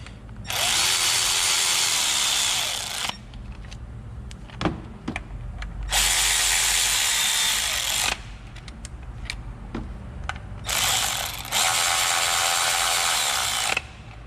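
A power tool, fitting a ratchet or electric driver, snugs down ignition coil bolts on a 2009 Toyota Corolla 1.8, in three loud whirring bursts of a few seconds each, separated by quieter clicks and handling noises.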